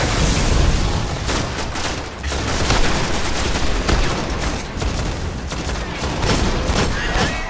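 Dense, continuous gunfire from the video game Destiny, loud sustained volleys of shots and booms layered together with almost no pause.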